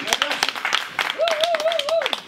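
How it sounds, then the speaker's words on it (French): A few people clap sparsely at a Paris bar opening while a voice speaks and hums loudly over it, the claps sounding close and irregular. "Ça s'applaudit."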